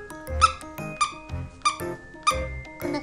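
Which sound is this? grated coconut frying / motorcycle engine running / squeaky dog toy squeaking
squeaky dog toy squeaking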